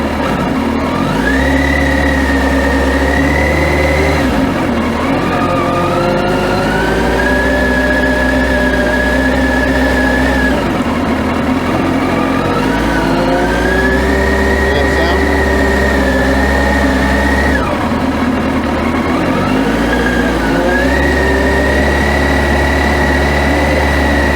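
A motorcycle engine runs steadily through figure eights with the clutch slipped in the friction zone, a loud continuous drone whose pitch rises and falls in repeated cycles as the bike leans and turns, with a voice talking over it.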